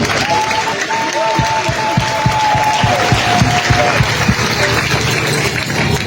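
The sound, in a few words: church congregation applauding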